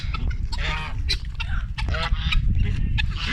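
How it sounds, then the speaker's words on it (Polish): A goose honks repeatedly among poultry being let out, several harsh nasal calls in quick succession mixed with other bird sounds and a person talking nearby. "O, no, gęś."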